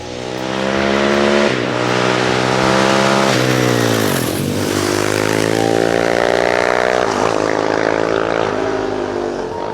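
Kawasaki KLX450R supermoto motorcycle ridden hard, its loud single-cylinder engine revving up and down through repeated gear changes and throttle sweeps, close and continuous for about ten seconds.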